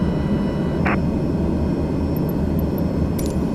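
Steady drone of an OV-10 Bronco aircraft engine taxiing toward the runway in a flight simulator, loud and constant, with a couple of faint brief clicks.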